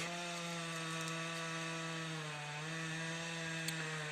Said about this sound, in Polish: w tle będzie słychać pilarzy. Pracują.